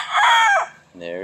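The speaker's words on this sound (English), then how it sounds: "See if we get him crowing again." A rooster crows at close range, loud and clear, with a drawn-out call that breaks off and restarts in a second, lower phrase.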